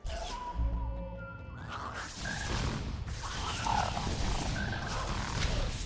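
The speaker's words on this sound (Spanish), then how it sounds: "Salí acá, rana." A frog croaking in the video game Ori and the Blind Forest, a low resonant croak followed by whooshing game effects and rumbling thuds, with a continuous musical backdrop.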